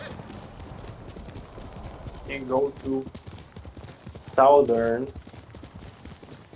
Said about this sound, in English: To mount our horse